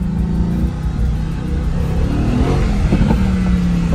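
A Mercedes-AMG GT S engine rumbles loudly and close by, its revs rising and falling, with a few faint crackles that may be exhaust pops.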